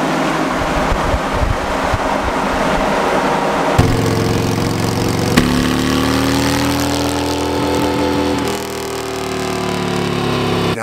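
Harley-Davidson 107 Milwaukee-Eight motorcycle engine running on a dyno, loud and sustained, rising through several revving pulls with tone climbing and dropping, no voices.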